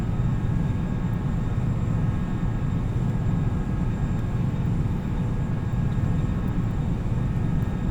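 Steady, dense low engine drone fills a large airliner cabin in a flight simulator, a continuous even roar with no breaks and no voices.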